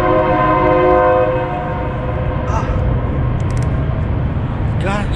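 A train rolls past near the Kansas River while someone fishes from an island, its horn blaring in steady blasts at first and the rumble of the cars continuing loud and close, with a few faint bird chirps above it.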